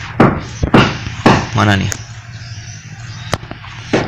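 Firecrackers explode in a video game as a series of sharp, punchy bangs spaced irregularly across the moment, loud and close, with a voice speaking briefly between them.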